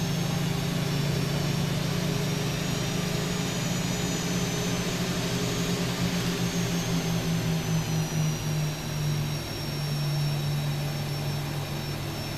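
Boeing 737 jet engines in the X-Plane 12 flight simulator, a steady loud whine and low rumble holding throughout while the airliner taxis, with no talk over it.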